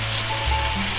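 Spicy center-cut pork chops sizzle steadily in a hot pan right after being flipped, a brief continuous frying hiss with a low hum beneath and no talking.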